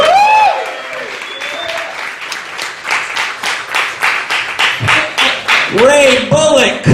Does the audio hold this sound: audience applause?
yes